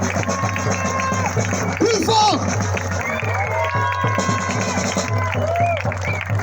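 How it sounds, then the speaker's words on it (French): A crowd at an anti-pass protest in Strasbourg claps and cheers, the applause mixing with shouts and a voice speaking over the noise. "Vous applaudissez tous les uns les autres"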